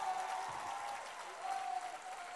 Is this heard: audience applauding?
yes